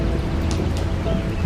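Heavy rain pours in a cartoon story, a steady dense hiss of falling water running unbroken and loud throughout, with no voices.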